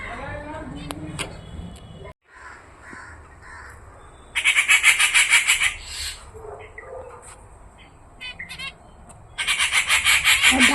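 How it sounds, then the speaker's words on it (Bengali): Crows caw in loud repeated bursts close by, with other birds chirping and squawking between them; a voice speaks briefly early on. "ডাকাডাকি করছে দেখুন"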